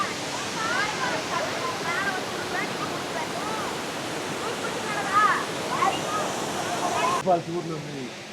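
Steady roar of Kandhanpara waterfalls in Wayanad, Kerala, swollen with muddy rainwater, fills the scene, with faint voices talking underneath; the noise cuts off abruptly near the end.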